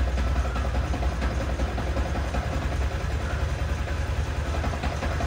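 A Yamaha Sniper 155R motorcycle engine idles with a faulty tensioner, producing a steady, close, unbroken chugging hum with a fine rattling texture running through it and no voices.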